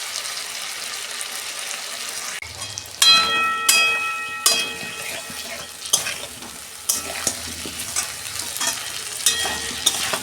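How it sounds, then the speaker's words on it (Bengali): Ginger and green chili sautéing with spices in a pan over fried potatoes for aloo dum, a steady sizzle broken by repeated clinks and scrapes of a spoon stirring against the pan. "বন্ধুরা, কাঁচা আদার গন্ধটা যতক্ষণ না যায় আমি একটু কষতে নেবো"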